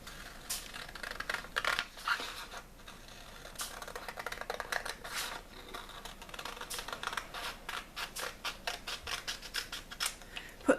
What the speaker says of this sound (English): we need to just cut the pattern at that point